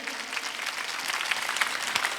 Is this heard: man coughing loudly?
no